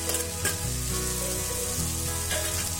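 Sautéed bitter gourd sizzling in a pan for a thokku, a short, steady frying hiss heard beneath a sustained tonal musical backdrop.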